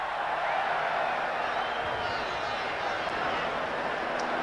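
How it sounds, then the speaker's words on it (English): A large crowd at Eden Park for the 1988 Rugby League World Cup Final between New Zealand and Australia sends up a steady, distant roar. A commentator talks over the constant murmur. "Some of the crowd here at Eden Park this afternoon"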